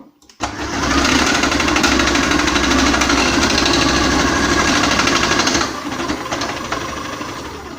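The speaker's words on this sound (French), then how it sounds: "Je vais essayer en position 1" A KitchenAid 2.1-litre food processor runs on speed 1 while slicing carrot, giving a loud, steady mechanical whirr with a rattling, knocking texture that starts abruptly and eases slightly near the end.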